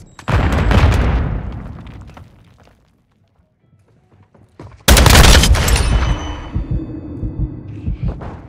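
A Semtex grenade goes off in Call of Duty MW2 multiplayer on PS5, a loud booming blast with crackling debris that follows a first burst, the two heavy detonations a few seconds apart and then trailing rumble.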